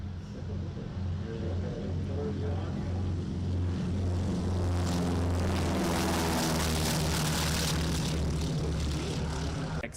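A DC-3 airliner passes with its big radial engines, a loud, throbbing drone that holds steady for the whole stretch as it goes by at an airport.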